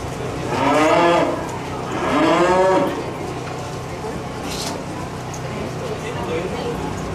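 Cattle at a 4-H beef show let out two long, close, deep moos one after another, followed by a quieter stretch of barn noise and faint background voices.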